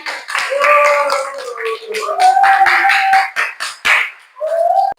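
A classroom of seventh-grade students claps their hands together in an Arabic lesson, the claps mixing with bright children's voices calling out over the top for about five seconds.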